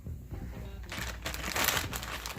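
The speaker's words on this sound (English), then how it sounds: "we're going to place a sous vide weight inside the plastic bag to help keep it submerged under the water." A plastic bag crinkles and crackles loudly and close up as a sous vide weight is pushed inside it, a short burst of rustling after a quiet start.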